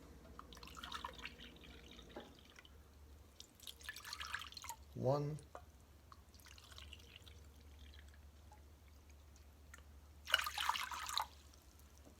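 Warm water is poured into a bowl for no-knead bread dough, arriving in a few short splashing bursts between stretches of a woman's speech in a home kitchen.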